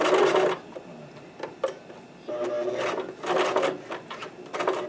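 A sewing machine slowly stitches a cosplay collar for a Princess Peach costume, running in short close bursts with brief pauses between them.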